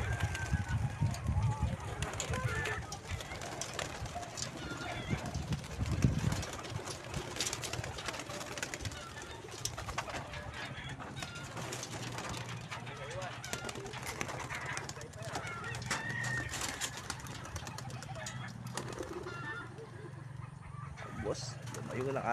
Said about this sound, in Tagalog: Ating mga kalapate mga boss.